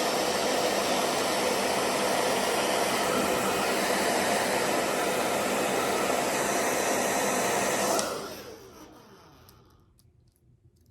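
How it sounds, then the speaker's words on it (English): Hair dryer blowing during a make-up routine, a loud steady whooshing roar for about eight seconds that is then switched off and winds down into near silence. "So I use a hair dryer."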